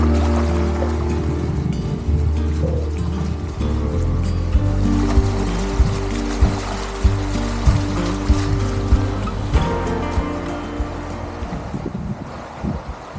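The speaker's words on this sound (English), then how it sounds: "This is our first sail across an atoll, and it is awesome." A sailboat glides across an atoll lagoon in the Tuamotus, with a continuous rush of water and wind along the hull, low engine-like drone, and rhythmic soft slaps of small waves.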